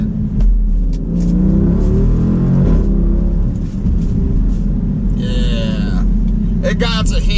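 A Jeep SRT Hellcat engine after a downshift, a loud, steady roar of the car underway that swells as it revs. A person talks over it throughout.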